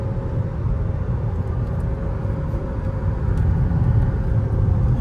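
Skoda Kylaq compact SUV accelerating hard on a highway right after a paddle-shift gear downshift, a steady loud engine and road drone heard from inside the cabin, continuous and building slightly toward the end.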